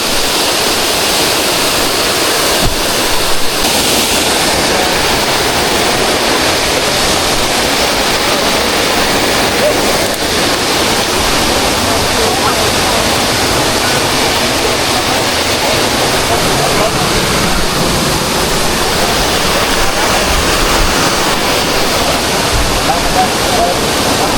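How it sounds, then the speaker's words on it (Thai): Khlong Kratha waterfall in the rainy season roars with heavy water flow, a loud, dense, unbroken rushing sound that holds steady from start to finish. "น้ำตกคลองกระทะครับวันนี้เรามากันในช่วงฝนตกนะ"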